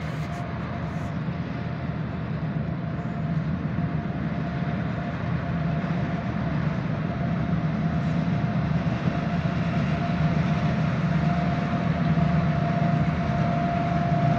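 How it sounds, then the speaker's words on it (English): A Union Railroad coke train rumbles past on the tracks with a steady, continuous roar and a faint high whine, no distinct breaks, heard from nearby. "we'll catch the train going by"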